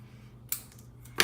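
Two sharp, close snips of scissors cutting off the sides of small craft wobbles, separated by a soft rustle over a low background hum.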